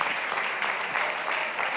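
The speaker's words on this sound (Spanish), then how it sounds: "Démosle un aplauso al Señor y ya seguimos." Congregation applauding during a Spanish-language church service at a women's retreat, a steady, dense crowd clapping that fills the whole moment with no voices over it.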